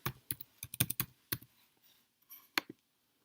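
Typing on a computer keyboard, a quick burst of close, crisp key clicks in an uneven rhythm that slows to a few last taps, quiet and with no talk.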